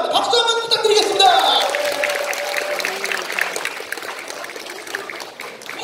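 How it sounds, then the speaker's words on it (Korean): An audience at a preliminary round of a national singing contest in Chuncheon breaks into sustained applause. The clapping is close and lively and follows a host's brief spoken introduction. "박수 한번 부탁드리겠습니다"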